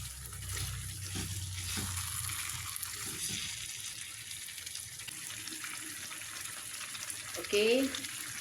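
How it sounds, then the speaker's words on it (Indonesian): Chicken curry with potatoes in coconut milk is stirred in a frying pan, a steady hissing sizzle with faint scraping strokes, and a brief voice near the end. "Oke, kita aduk-aduk."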